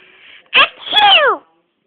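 One loud, close sneeze starts with a sharp burst and then stretches into a drawn-out, voiced, wavering tail before cutting to silence, with no other sounds around it.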